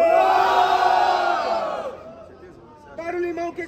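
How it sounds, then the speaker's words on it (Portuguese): A rap battle crowd at Batalha Da Leste in Itaquera cheers and shouts loudly to vote for a rapper, a dense roar that fades after about two seconds before a voice speaks over renewed noise. "Barulho que gostou das rimas de Bosque"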